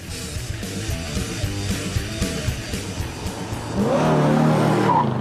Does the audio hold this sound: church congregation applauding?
no